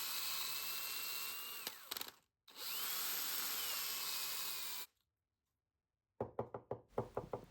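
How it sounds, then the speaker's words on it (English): A metal fuel rail from a Norton Nemesis V8 is tapped against a workbench in a short burst of sharp knocks, close up, after a power tool whines and stops. "I tap the fuel rail on the bench and lots of powder comes out"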